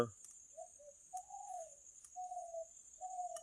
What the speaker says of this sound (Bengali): ঘুঘুর ডাক